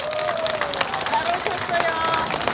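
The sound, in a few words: audience applause at a political podcast event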